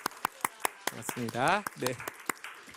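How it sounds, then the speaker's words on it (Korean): A church congregation gives a few scattered, sharp claps to welcome newly registered members, while someone speaks briefly over them. "저기 계신데 박수로 환영하겠습니다."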